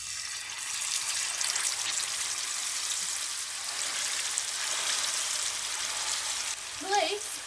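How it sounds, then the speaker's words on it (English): Bengali-style fish shallow frying in hot oil on a low flame, a close, steady sizzling crackle that carries on evenly throughout, with a brief soft voice near the end. "Place on a low flame and fry until golden brown."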